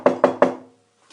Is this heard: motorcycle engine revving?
no